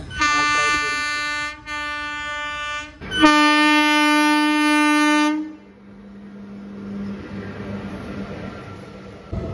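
A train at Jolarpettai Junction, a large railway station, sounds three loud horn blasts, two short and one long, followed by a steady rolling rumble of the train.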